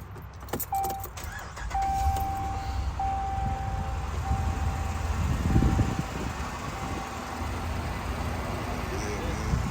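A Ram 2500 pickup truck engine turns over and catches, then settles into a steady idle, with a faint high electronic chime beeping intermittently.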